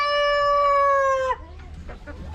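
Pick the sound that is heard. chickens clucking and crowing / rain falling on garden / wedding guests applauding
chickens clucking and crowing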